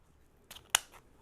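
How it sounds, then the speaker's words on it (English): Scissors snip through ribbon while a hand-tied wreath bow is made, giving one crisp close cut with a faint rustle just before it in an otherwise quiet room. "So I'm going to cut this off."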